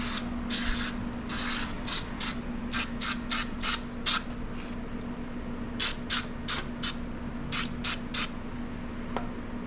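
Cleaner is sprayed onto KTM 300 EXC dirt bike parts in a rapid run of short, sharp hissing bursts. A second cluster of bursts follows a brief pause, close and fairly quiet over a low steady hum.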